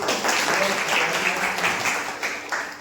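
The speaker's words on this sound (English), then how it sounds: "Clap for Sandeep" A classroom of students claps for a classmate in a short, moderately loud burst of scattered hand claps that fades slightly toward the end, with some voices under it.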